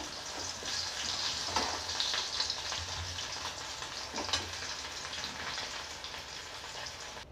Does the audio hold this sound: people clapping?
no